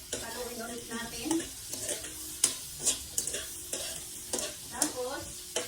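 Ginataang papaya with malunggay is stirred in a pan, a gentle sizzle of coconut-milk stew under repeated scraping and tapping of a spoon against the pan in an uneven rhythm, fairly quiet and close.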